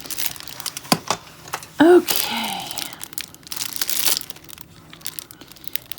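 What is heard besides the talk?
opening plastic packaging of watercolor sketch pencils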